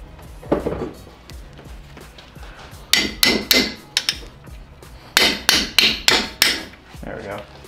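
A hammer strikes a part on a blown 1.8 turbo Miata engine during teardown, sharp metallic blows landing in quick bursts of four or five, with a few isolated hits between, close and loud.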